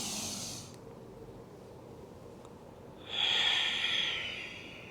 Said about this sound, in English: Deeper breaths here.